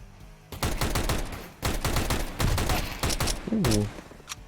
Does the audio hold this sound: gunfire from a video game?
yes